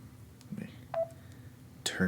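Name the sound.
phone tones sounding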